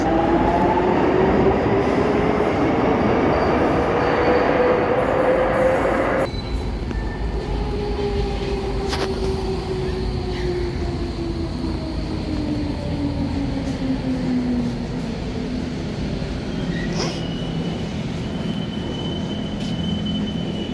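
A Docklands Light Railway train at Bank station, London, rumbles steadily with rising and falling motor whine, faint wheel squeal and a sudden drop in noise partway through; no voices.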